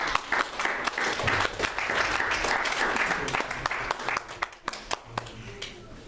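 A church congregation applauds for Jesus, a full room of sustained, rapid clapping with scattered voices and cheers mixed in, swelling and fading in waves.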